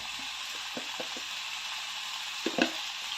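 Potatoes frying in hot oil while cooking a banana flower curry, a steady soft sizzle with a few light clinks and stirring scrapes near the end.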